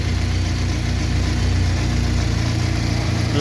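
A Fiat Tempra's engine idles close by with a loud, steady rumble and a faint rhythmic vibration, unchanging for the few seconds heard.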